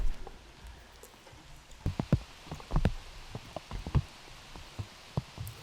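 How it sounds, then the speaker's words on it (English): Rain falls on a disc golf course at the 2023 PDGA Pro World Championships: sparse, irregular drops ticking close by over a soft wash of background noise, with no one talking. "the rain just getting a bit more intense"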